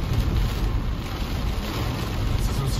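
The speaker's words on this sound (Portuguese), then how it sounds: "Olha esse momento de chuva." Heavy thunderstorm rain in Balneário Camboriú drums steadily and loudly on a car, a dense, low, unbroken roar with no voices heard above it.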